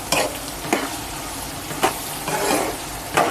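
Cluster beans with chilli powder are stirred in a pan, a soft continuous sizzle broken by several sharp scraping strokes of a spoon against the metal, close and fairly even, with no voices.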